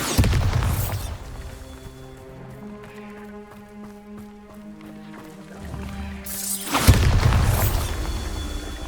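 Bombarda spell explosions in the video game Hogwarts Legacy: loud broadband blasts open and close the moment, with a quieter stretch of tonal game music between them and no talking.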